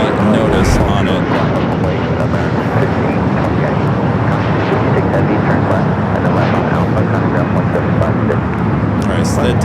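A DHL cargo jet takes off at Los Angeles airport, its engine roar loud and steady with a broad rushing wash and some wind buffeting. Radio or voices sound faintly beneath.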